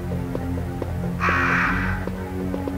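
Crows cawing in the video game Resident Evil: a single harsh, loud caw lasting under a second rises over a steady low game hum and faint rhythmic ticks.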